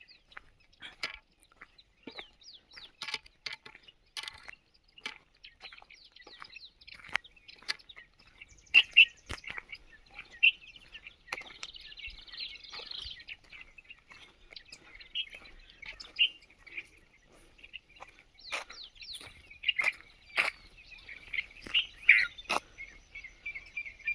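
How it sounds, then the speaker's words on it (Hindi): Faint, scattered bird chirps and tweets with insect-like clicks along the Narmada riverside between Mortakka and Raver, sparse and distant, with no talking. "आवाज़ से पक्षी उड़ गए।"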